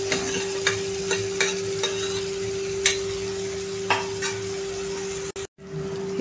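Stuffed ridge gourd sautés with a ground spiced masala paste in a pan, giving a steady sizzle broken by regular spatula scrapes and clicks, then a brief drop to near silence at the end.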